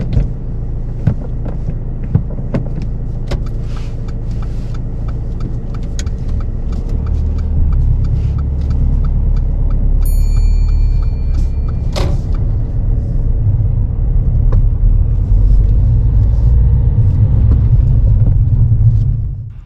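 A car pulls away from the kerb during a mock driving test, its engine a steady low rumble that builds gently as it gets under way, with a brief indicator-like ticking partway through and no talk.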